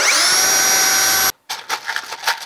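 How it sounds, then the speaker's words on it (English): A power drill whines steadily at high speed while drilling holes for boat hinges during a jon boat restoration, then stops abruptly and is followed by a few softer clattering knocks. "now what we've got to do is we got to drill holes to match up with these holes"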